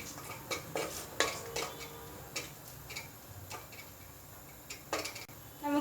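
Spices with coriander powder being sautéed in a pan for vegetable kurma, heard as close, intermittent scraping and clinking of a spoon against the pan over a faint background hiss, with no talking.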